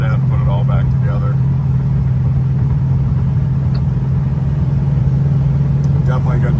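A muscle car's engine runs steadily while driving, a loud low rumble holding constant throughout, with people talking over it.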